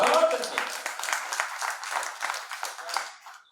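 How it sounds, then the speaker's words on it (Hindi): Listeners at a Hindi poetry recital clap in a fairly thin, scattered burst of individual claps, moderately close and tapering off over a few seconds, with a voice faintly present. "एक बार अच्छे से ताली बजाइए"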